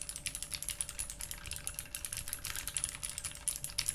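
Brisk typing on a Lunette Pokker U60 custom keyboard with fairly heavy switches, crisp clicky keystrokes in a fast, steady stream, close and alone with no talk.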